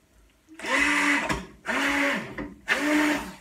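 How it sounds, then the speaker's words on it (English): A hand blender purees mashed potatoes for a vegan shepherd's pie in three close bursts of whirring motor noise, each about a second long, with short pauses between them. "I always use like a hand blender because I like my potatoes to be more like puree"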